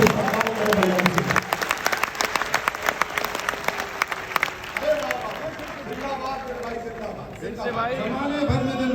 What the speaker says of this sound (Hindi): तालियां बजाए लखनऊ